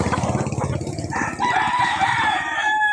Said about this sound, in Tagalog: Sila mga manok.